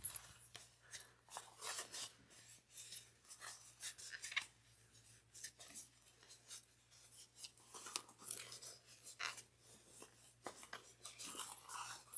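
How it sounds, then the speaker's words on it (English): Scissors snip loose threads off a freshly sewn fabric ID wristlet, a faint run of quick, close cutting and rustling sounds with no talking. "Trimming up those threads"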